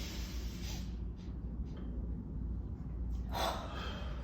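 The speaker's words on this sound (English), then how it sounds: "So we're gonna inhale." Quick sharp breaths, drawn in and pushed out in short bursts during a fast-paced breathing exercise class, heard close over a steady low hum with no speech.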